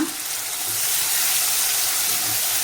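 Chopped onions, about three medium ones, sizzle steadily in a hot pan with oil, a continuous bright frying hiss with faint stirring clinks underneath.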